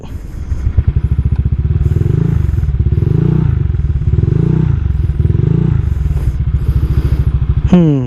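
A Honda Vario 150 motor scooter engine cranks, catches and idles with a steady low throb, revving up in surges, loud and close, ending in a rising whine.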